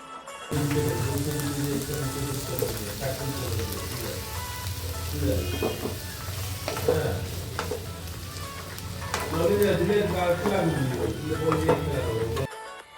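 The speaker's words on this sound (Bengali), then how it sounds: "এবার ভালো করে ভেজে নিচ্ছি" Chopped tomatoes added to onions and capsicum frying in a pan for chilli chicken, giving a steady close sizzle with occasional stirring scrapes throughout, no talking.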